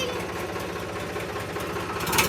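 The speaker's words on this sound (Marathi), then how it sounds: "ट्रॅक्टर मागं घ्यायला चालेल" A tractor engine idles steadily with a low, rhythmic chugging, close by, with no speech over it.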